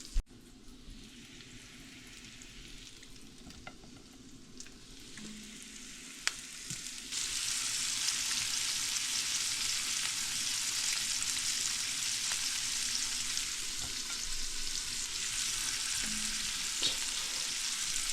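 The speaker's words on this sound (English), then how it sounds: "I'm gonna let that heat up for just another second, and then I'm gonna drop the fillets in here." Panfish fillets dropped into a hot pan outdoors on a kayak, a quieter oil sizzle jumping to a loud, steady frying hiss that continues for over ten seconds, close up with no talking.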